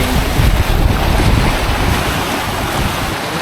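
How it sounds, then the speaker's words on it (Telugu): Cyclone floodwater surges out from under a bridge and spills straight across the road, a loud, continuous roaring rush with heavy low rumble and gusting wind noise on the microphone, no talking. "ఈ బ్రిడ్జి కింద నుండి వెళ్ళిపోకుండా తట్టుకోలేకుండా డైరెక్ట్ రోడ్డు మీదకి వేస్తున్నాయి నీళ్ళు"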